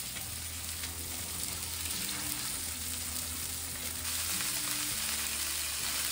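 Pork fillet sizzles and crackles steadily on a hot griddle plate, a loud continuous frying hiss with no voices over it.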